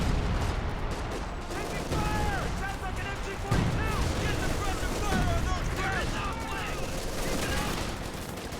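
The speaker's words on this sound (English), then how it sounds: "I think that was major artillery here calling in" Artillery fire in a Company of Heroes 2 battle: booming blasts and crackling gunfire pile up in a dense, loud barrage, with heavy impacts standing out amid continuous battlefield noise and voices talking over it.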